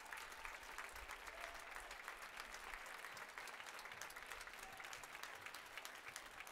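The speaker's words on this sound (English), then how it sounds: "All get a standing ovation from the crowd here." A crowd at a South Dakota high school boys basketball region playoff gives a standing ovation, with steady, sustained clapping and cheering that sounds somewhat distant and muffled throughout.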